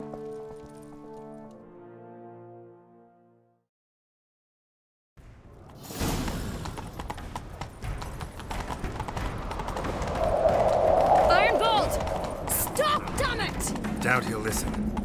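In The Witcher 3: Wild Hunt, after a brief musical tone and a moment of silence, loud rhythmic horse hoofbeats gallop along, with whooshing movement and clashing effects layered over them.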